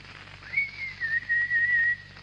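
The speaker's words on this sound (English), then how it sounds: "I'll have a whistle." A man whistles alone on a comedy radio show, sliding up into a clear tune of sustained notes broken by short pauses.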